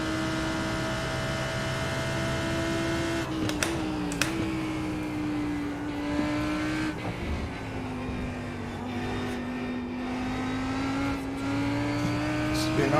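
Racing car in a simulator game at Suzuka high-siding over curbs, a steady droning engine note with brief scraping thumps and pitch shifts, a continuous loud hum throughout.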